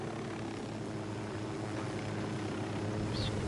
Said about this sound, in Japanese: 早くそのヘリ下ろして乗っけてくれ